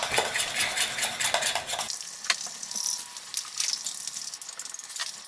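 A spoon stirs cheesecake batter with peanut butter mixed in, scraping and clinking against a bowl in quick, close, repeated strokes with no talk.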